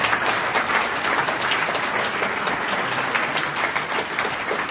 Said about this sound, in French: Comme ça mérite vos applaudissements